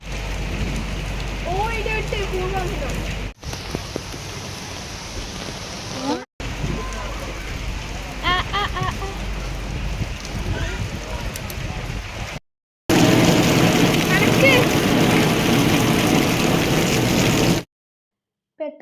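Sudden rain shower pours steadily on surfaces during a shopping outing, a dense hiss that grows heavier and louder toward the end, with voices and other sounds mixed in under it.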